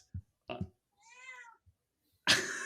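A cat meows once, a clear, fairly faint cry nearby, with soft knocks before it and a burst of noise after.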